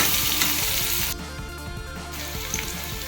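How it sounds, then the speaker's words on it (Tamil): Onions and green chilies sautéing in oil in a pan, giving a loud, close, continuous sizzle that briefly softens midway and then resumes, with light stirring noises and no talking. "வெங்காயமும் பச்சை மிளகாய் நல்லா வதங்கிடுச்சு"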